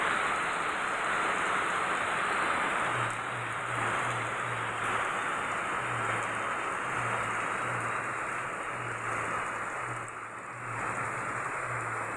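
Steady rain falling outdoors in Bicol during a downpour, a dense continuous hiss that stays loud and even throughout, with a faint low intermittent hum underneath.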